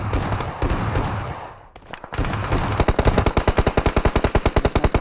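Rapid automatic gunfire in BGMI during a BGIS tournament round, a dense burst of shots followed by a long, steady, evenly spaced stream of loud close rounds.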